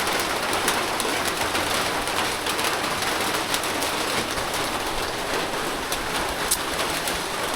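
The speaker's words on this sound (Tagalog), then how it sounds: "Tapos bumuhos naman yung malakas na ulan" Heavy rain pours down steadily on a rural Philippine farm, a dense, continuous hiss with no letup, mixed with scattered drips and distant bird calls.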